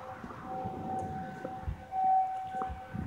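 A civil defense siren wails far off as a faint, steady held tone under low background rumble and scattered soft knocks, with no one speaking.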